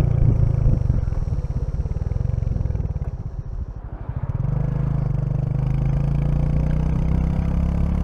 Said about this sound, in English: It's such a light bike, it's great fun.